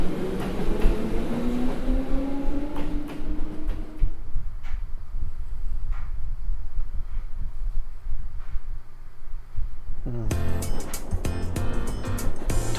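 A train in The Legend of Heroes: Trails of Cold Steel rumbles past with a rising hum and rhythmic clatter, fading into quieter rolling noise before a sharp burst of bright, rapid clicking near the end.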